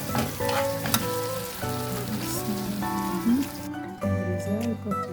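Borscht vegetables sauté in a frying pan, a steady close sizzle with soft stirring clatter that stops abruptly near the end before resuming briefly.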